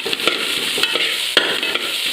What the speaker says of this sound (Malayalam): ഇനി നമുക്ക് മിക്സ് ചെയ്ത് കൊടുക്കാം.